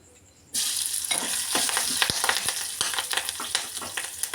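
Green chillies hitting hot oil in a pan, a loud sudden sizzle starting after a brief quiet moment and continuing steadily with crackling pops and spatters throughout.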